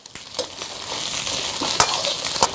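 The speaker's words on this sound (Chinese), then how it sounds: "先用大火给它爆炒" Beef ribs stir-fried over high heat in hot oil in a wok, a loud continuous sizzle and crackle with several sharp scraping stirs of the spatula, close up and without talk.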